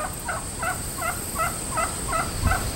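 An odd, repeated call from a farm animal, either a bird or a goat, comes as a series of short gobbling bursts about every half second over a steady background hum.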